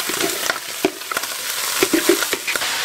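Vegetables sizzling in two spoonfuls of olive oil in a pan, with a steady close frying hiss broken by repeated scraping stir strokes and clatters from a utensil, no talking.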